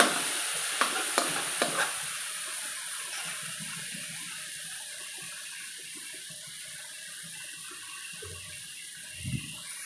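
Vegetables stir-fried in a pan just after fish sauce goes in, with a few sharp utensil clanks early on over a steady, close sizzle, then continuous frying hiss and light stirring.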